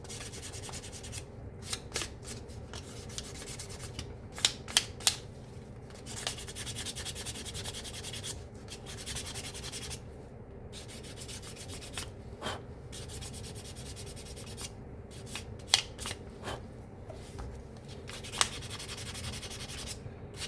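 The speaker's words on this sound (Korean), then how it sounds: "이제 면을 아주 반듯하게 잡아주고 이 사포로 다듬어 주면" Sandpaper, around 400 grit, is rubbed along a leather edge to flatten it, giving a soft, close, continuous scratchy rasp broken by short repeated strokes, with no talk.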